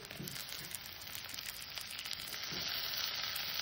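Chopped tomatoes hit hot oil with ginger in a pan for a dhaba-style tadka, giving a steady, close, bright sizzle that swells slightly toward the end, with no talking.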